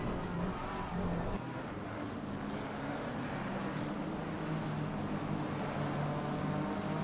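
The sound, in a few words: GT3 race car engine, BMW, Paul Ricard circuit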